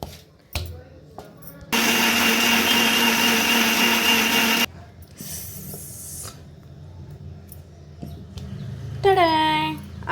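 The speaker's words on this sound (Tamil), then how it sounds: "இதை வந்து அரைச்சி முடிச்சுட்டு காமிக்கிறேன் பாருங்கள்." A mixer grinder grinds greens into a fine paste, a loud steady whirring roar for about three seconds that cuts off abruptly, followed by quieter clatter, a short second whir and household sounds.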